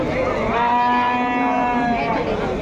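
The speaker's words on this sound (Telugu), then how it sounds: "జెర్సీ ఆవు అయితే ఉంది" A Jersey cow at a cattle market moos in one long, loud, drawn-out call close by.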